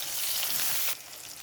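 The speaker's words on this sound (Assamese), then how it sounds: "কেৰাহীত তেল দিলে তেল এইফালে পিঁয়াজ জলকীয়া কাটি থোৱা হৈছে পিঁয়াজ আৰু জলকীয়া দি ল'লোঁ" Onions and green chillies sizzle loudly in hot oil in a wok, a dense crackling hiss that drops suddenly in level near the end.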